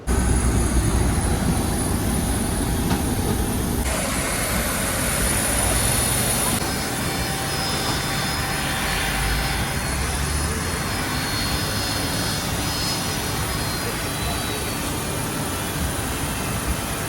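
Loud, steady jet engine roar and rushing air from inside a jet airliner touching down and rolling out at Kochi airport, continuous throughout with a shift in tone partway through as the engines change pitch.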